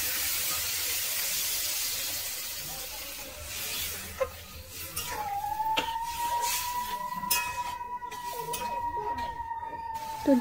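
Water poured into a hot pan of fried mussels bursts into a loud, broad steamy hiss that gradually settles, and a thin whistling tone rises later as the liquid heats.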